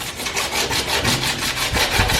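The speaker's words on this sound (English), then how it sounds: "now I'm going to have to sand it all." Rhythmic back-and-forth sanding of plastic for an in-ground compost bin, close and fairly loud, a rough scratchy rasp repeating about five times a second.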